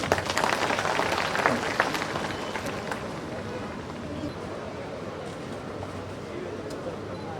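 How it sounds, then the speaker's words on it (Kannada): A large audience at a farmers convention applauds in a steady wash of clapping that is strongest at first and gradually fades to a softer, distant crowd murmur. "ಎಲ್ಲರ ಚೋರು ಕೈ ಚಪ್ಪಾಳೆ ಬರಲಿ"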